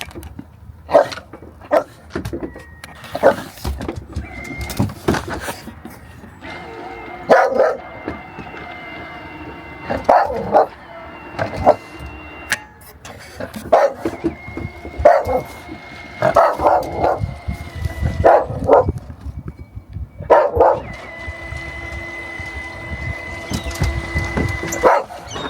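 A dog on a UK surf beach barks repeatedly in excited bursts, some barks near and sharp, spread across the scene with wind and surf noise between them.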